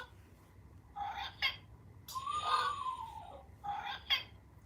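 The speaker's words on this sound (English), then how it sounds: "that was the eastern screech owl you just heard go off" A thin, descending, whinnying eastern screech owl call sounds from a bird clock's small electronic speaker, with softer chirpy calls before and after it, against a quiet background hum.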